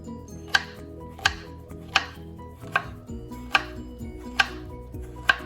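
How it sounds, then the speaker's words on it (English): A knife cuts plantain on a board in seven crisp, evenly spaced chops, each a sharp close knock, with a faint low hum between strokes and no talking. "So I'm cutting the plantain."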